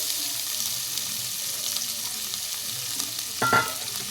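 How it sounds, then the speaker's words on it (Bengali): Carrots and beans sizzle steadily in a frying pan for a few seconds, a continuous close hiss with a brief louder scrape of stirring near the end. "সবজিটা ভালো করে ভেজে নেব।"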